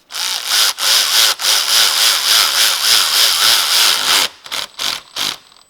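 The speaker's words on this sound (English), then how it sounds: "Go ahead and ratchet it slowly." A ratchet is cranked slowly to tighten a bolt during an alternator install on a 2018 Lincoln MKC 2.0L turbocharged four-cylinder. It makes a loud, close, rasping run of rapid clicks for about four seconds, then a few shorter bursts.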